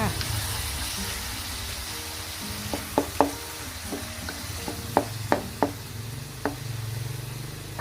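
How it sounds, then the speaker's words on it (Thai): Minced pork stir-fried with chillies and a splash of water in a pan makes a soft sizzle, with sharp spatula knocks and scrapes against the pan coming at irregular moments. A background hum sits underneath. "เติมน้ำเปล่าลงไปนิดหน่อยเพื่อช่วยให้หมูนุ่มและสุกค่ะ จากนั้นก็ผัดให้เข้ากันอีกครั้ง"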